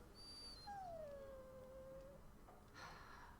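Dog whimpering in the Dragon Age: Origins video game, a single long descending whine that holds steady for over a second, with a faint higher whine before it and no talk over it.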